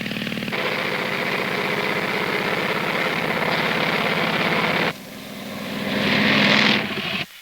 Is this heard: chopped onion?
no